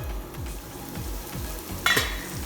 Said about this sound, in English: So we can just saute this on high heat for maybe a minute.